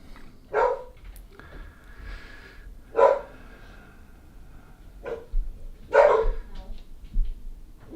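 Dogs bark in single spaced outbursts, a few sharp barks a couple of seconds apart, moderately near, with a low background hum between them.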